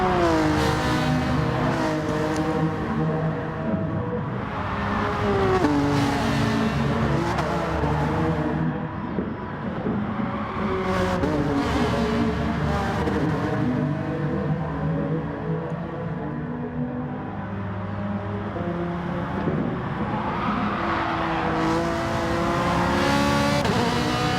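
Race cars in a close practice race in a racing video game, engines revving and droning steadily with rising and falling pitch as cars accelerate and shift, with occasional tire squeal, loud and continuous throughout.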